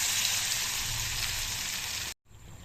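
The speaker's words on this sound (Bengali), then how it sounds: "খুব ভালো করে ব্যাটারের মধ্যে চুবিয়ে নিয়ে এবারটা তেলের মধ্যে দিয়ে দেবো" Jute leaves dipped in batter fry in hot oil with a bright, steady close-up sizzle that cuts out abruptly for a moment, then resumes more faintly.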